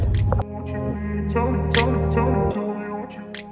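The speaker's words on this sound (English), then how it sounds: "Grind it to make a fine paste like this." An electric grinder whirs as it blends banana, curd and coconut oil into a fine paste, a steady tonal motor drone with a few sharp clicks, running close and loud before slowing near the end.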